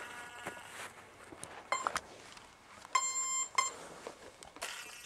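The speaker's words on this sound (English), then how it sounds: "We get happy ESC noises." Electronic speed controller on a ZOHD Nano Talon RC plane chirping its startup tones after the flight battery is plugged in: a few short high beeps followed by a longer rising beep sequence, close and clear over faint background hiss.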